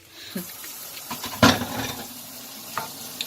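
Kimchi and onion being stir-fried in a pan for kimchi fried rice, with a soft continuous sizzle broken by a few sharp scraping and tossing clicks, close and moderately loud.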